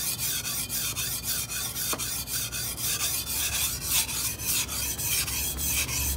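A bone-chopping knife is sharpened on an ordinary whetstone with steady, rhythmic rasping strokes, about two per second, close and continuous, with no talking.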